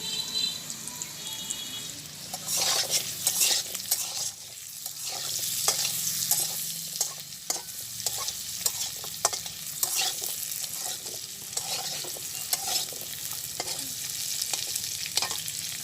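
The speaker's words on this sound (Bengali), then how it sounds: "কাঁঠালের বিচি দিয়ে দিছি কড়াইতে, করবো পেঁয়াজ রসুন মরিচ জিরা এইগুলা দিয়ে।" Jackfruit seeds fry in a kadai (wok) for bharta, giving a continuous close sizzle with repeated scraping stirs and light rattles. A faint watery trickle sits in the background, and no one speaks.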